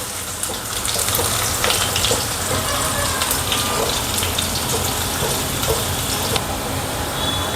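Onion dropped into hot oil already crackling with mustard seeds and cumin, cooking for uttapam; a loud, steady, close hiss of sizzling runs without a break, flecked with small pops.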